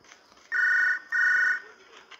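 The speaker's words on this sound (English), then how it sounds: "We got a phone call." A telephone rings in two clear, loud bursts, each about half a second long with a short gap between them, standing alone over faint background noise.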